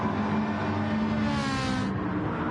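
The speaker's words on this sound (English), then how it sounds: "he's revving that McLaren out" McLaren Gr4 race car engine revving hard in a racing video game at Goodwood, a steady loud mechanical roar with rising pitch that holds throughout and eases slightly near the end.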